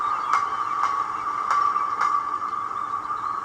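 A Gaugemaster GM780 model railway sound module plays a continuous rail rumble of passing trains with a steady hum, broken by regular faint clicks like wheels passing over track joints, quiet and even.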